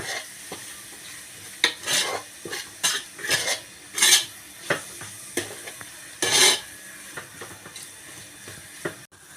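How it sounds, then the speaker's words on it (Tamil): Chili-powder masala for a kilanga fish curry being stirred and sautéed on low flame, with repeated scraping and clinking strokes of a spoon against the pan over a soft sizzle, close and rhythmic. "லோ ஃப்ளேமில் வச்சு நல்லா கலந்து விட்டுக்கோங்க இந்த மிளகாய்த்தூளோட பச்சை வாசனை போகிற வரைக்கும் வதக்கி விட்டுக்கலாம்"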